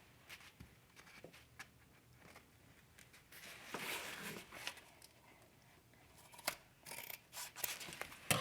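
Scissors snipping through painted canvas at close range, a series of quiet, uneven cuts with soft rustling of the fabric between them, growing somewhat louder toward the end.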